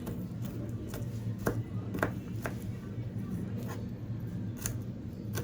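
A knife chops garlic on a board with a few faint, irregular taps over a quiet, muffled kitchen background.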